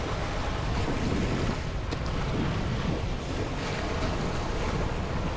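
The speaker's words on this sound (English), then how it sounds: "I know it's real windy and noisy right now" Strong wind roars across the microphone while someone is out fishing, a dense, steady buffeting rush that never lets up across the whole stretch, with no voices.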